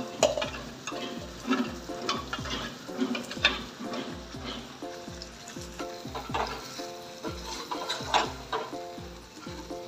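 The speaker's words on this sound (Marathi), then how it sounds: "आपण ह्याच्यामध्ये व्यवस्थित हा मसाला रोस्ट करून घेऊ" Masala roasting in a pan for catfish (mori) curry sizzles continuously, while a spoon scrapes and stirs in a steady repeated rhythm, close and fairly loud with no talking.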